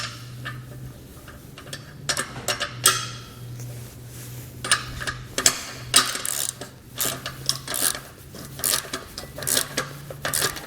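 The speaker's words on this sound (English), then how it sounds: "You can come back with a ratchet and a wrench and tighten it down." A ratchet tightens nuts on the frame bolts of a Malone EcoLight Sport trailer, making repeated bursts of quick metallic clicking, close and moderately loud, with short pauses between strokes.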